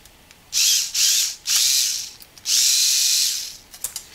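A power drill whirs loudly in several short bursts as it bores holes in the plastic shell of a Hubsan X4 H501S drone, with brief pauses and clicks between runs.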